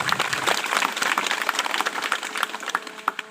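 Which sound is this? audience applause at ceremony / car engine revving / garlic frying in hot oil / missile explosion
audience applause at ceremony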